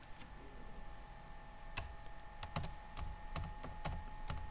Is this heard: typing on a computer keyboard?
yes